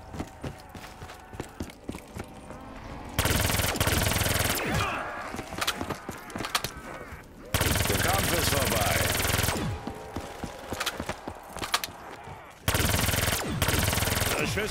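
Gunfire in Call of Duty Black Ops 3 Zombies, with bursts of rapid automatic shots and single cracks mixed with game clatter, broken by loud, dense blocks of sound. Voices talk intermittently.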